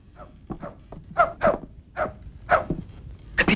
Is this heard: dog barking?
yes